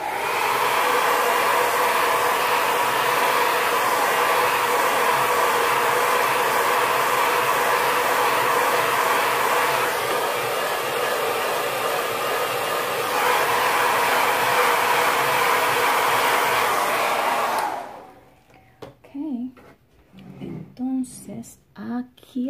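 A hair dryer blows steadily and loudly at close range, drying an acrylic lemonade painting on canvas, then cuts off, leaving a few moments of quiet talk.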